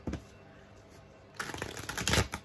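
A glossy-finish Everyday Witch Tarot deck being shuffled: a short soft rustle, a quiet pause, then a louder, dense burst of riffling cards up close.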